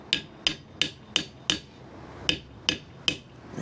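A hammer strikes a part on an Evo Sporty chopper motorcycle: eight sharp metallic blows, five in a quick steady rhythm, then a pause and three more, close and loud with no talking.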